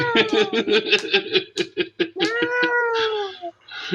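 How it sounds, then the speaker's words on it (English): Near and loud, a cat hollers in a string of long, wavering yowls. Short choppy cries alternate with a sustained, rising-and-falling wail, and faint human chuckling sits in the background. "That cat is hollering."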